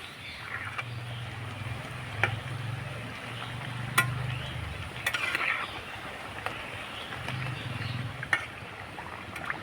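Carrot puli pitha frying in oil over medium heat, stirred now and then: a low, steady bubbling with soft sizzle and occasional light clicks of the utensil against the pan.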